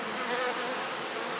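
Dense, steady buzzing of a honeybee colony in an opened hive, a close, continuous drone of many bees with no voices over it.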